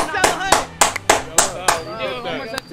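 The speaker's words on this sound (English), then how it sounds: "Y'all clap it up, man." Several sharp hand claps ring out in an uneven burst while people talk and shout over them nearby.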